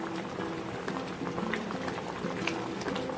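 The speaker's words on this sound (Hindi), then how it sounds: "अब देखिए जैसे अब ये उबलने लग गया हाई पे" Sugar syrup for homemade Agra-style petha boiling on high heat in a pot, a steady dense bubbling and popping that stays constant and close throughout, with no voices over it.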